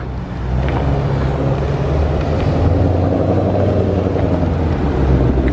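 A 980 wheel-horsepower 2020 Shelby GT500 engine runs with a loud, steady low rumble and roar that holds throughout without pause.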